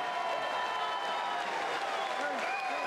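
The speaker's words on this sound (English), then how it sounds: "let's have a round of applause for one of the greatest main events in BKFC history" Crowd applause in a BKFC 52 bare-knuckle fight arena in South Carolina after the main event, a steady wash of clapping and cheering heard from a distance, with a voice faintly over it.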